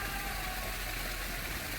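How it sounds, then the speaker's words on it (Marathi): An irrigation water pump engine, installed in April 2001 and watering farm crops, runs steadily with a constant mechanical hum and faint knocking, heard close and alone. "2001 सालच्या एप्रिलात बसवलेलो हा पंप"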